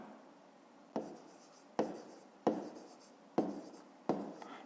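A pen writes out a fifth-grade math solution on paper, giving five distinct scratchy strokes at a steady pace, quiet and close, with no talking.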